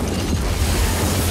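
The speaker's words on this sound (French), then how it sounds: "il y a une première explosion terroriste." A loud, rumbling blast from a terrorist bomb in the action film Die Hard with a Vengeance fills the whole moment with dense, boomy noise.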